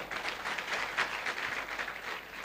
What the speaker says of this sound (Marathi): आपल्या मायबापासाठी एकदा जोरदार टाळ्या वाजवा